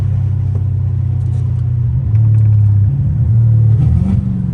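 Straight-piped Dodge Challenger Hellcat Redeye under throttle, a loud deep continuous engine drone that swells and steps up in pitch as the revs climb, heard from inside the car without talk.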